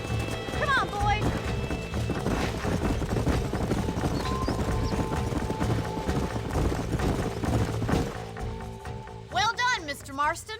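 Horse hooves clip-clop at a trot in Red Dead Redemption, a brisk continuous rhythm of hoofbeats near and clear, with game music and brief chirping sounds toward the end.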